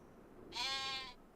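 A single sheep bleats once in Farming Simulator 25, a short wavering cry over a quiet farmyard background.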